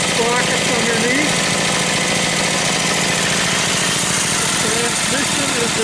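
A Briggs & Stratton opposed-twin 18 hp engine with dual carburetors and dual exhaust idles close by, a loud, steady, throbbing rumble that holds constant throughout.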